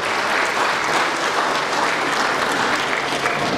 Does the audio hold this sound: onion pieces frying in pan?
no